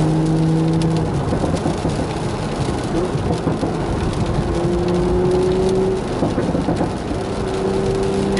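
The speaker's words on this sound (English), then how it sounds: "You can hear the rain on the windshield and the wipers are at constant." Rain pattering on the windshield of a GR Supra on Michelin Pilot Sport 4S tires, wipers running at constant speed, under a steady road and engine rumble with a faint tonal whine.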